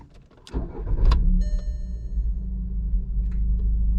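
VW Golf V car starting with a newly programmed key: a short click and starter crank, then the engine catches and settles into a steady low idle rumble close by.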